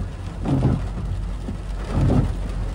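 Steady outdoor rain on a road, a broad continuous wash with low rumbling swells rising and falling, fairly loud and with no voices.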